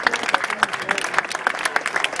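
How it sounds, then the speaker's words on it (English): Audience clapping at a transportation master plan presentation at an outdoor event, a moderate run of uneven individual claps over about two seconds, fairly near, with voices faintly mixed in. "I think you can clap louder than that"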